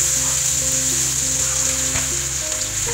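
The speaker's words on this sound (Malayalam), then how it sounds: "നമ്മുടെ സവാള, വെളുത്തുള്ളി, കറിവേപ്പില, ഇത് എല്ലാം കൂടെ കൂടി നമുക്ക് ഈ ബാക്കി എണ്ണയിലോട്ടൊന്ന് ഇട്ട് കൊടുക്കണം" Onion, garlic and curry leaves sizzle loudly in leftover oil in a pan, a steady close hiss of frying with no pauses, a low hum running underneath.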